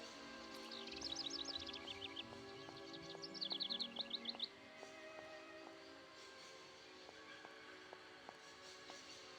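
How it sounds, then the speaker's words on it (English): Birds in the Syberia video game chirp in quick, high trills that come in two bursts and then fade, over a soft ambient bed with faint periodic ticks. "The birds are so loud."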